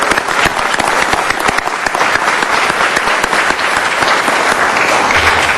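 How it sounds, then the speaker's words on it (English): A city council meeting audience claps loudly in sustained, dense applause honoring a high school's marching band and teams, steady throughout with no one speaking over it. "Let's have a big round of applause for a great school."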